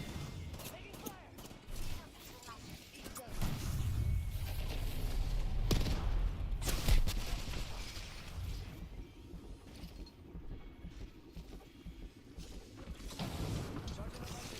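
Rapid bursts of gunfire and mechanical clatter ring out in a shooter video game, loud and dense, with a player talking over the action.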